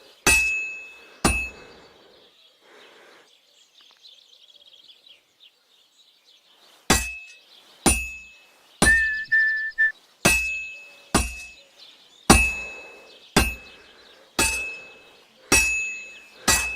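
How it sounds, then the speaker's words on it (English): Repeated hammer strikes ring out on an anvil in the video game Kingdom Come, two early blows, a pause, then about ten steady metallic clangs with bright resonant decay, close and loud. "You can tell a good strike by the sound it makes."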